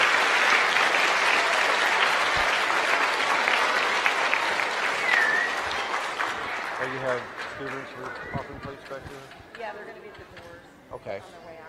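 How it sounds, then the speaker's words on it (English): An audience at a community event applauds loudly and steadily, the clapping thinning out into scattered claps and a few voices as it fades. "Let's give them another round of applause,"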